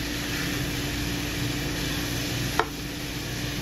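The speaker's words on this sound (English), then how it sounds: "we're going to cook up our turkey a little bit here" Ground turkey cooking in a pan for chili, a constant close sizzle with a single sharp scrape or tap partway through, no voices.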